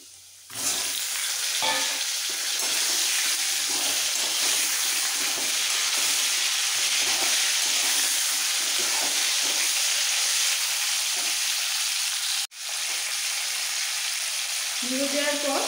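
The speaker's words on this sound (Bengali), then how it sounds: "আলুটা হালকা ভাজা হয়ে গেছে, এবার কেটে রাখা সমস্ত মূলো টুকরোগুলো দিয়ে দিচ্ছি।" Potato and radish pieces sizzle and fry steadily in a pan for a rohu fish curry made without onion or garlic, a loud continuous crackle with a brief break near the end.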